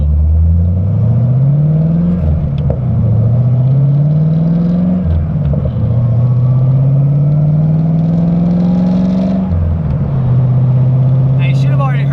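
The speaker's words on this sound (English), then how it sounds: "you should have already heard a couple pops during the shift" A car fitted with FiTech fuel injection revs up through repeated gear shifts, its loud engine note climbing steadily then dropping at each change, with brief exhaust pops at the shift points and a faint voice at the end.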